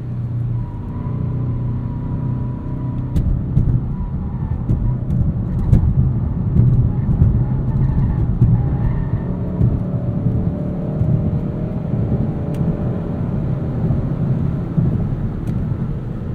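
A 2021 Hyundai Sonata N Line 2.5T taking a corner, heard from inside as a steady, loud low rumble of engine and road noise with faint whirring, continuous and without speech.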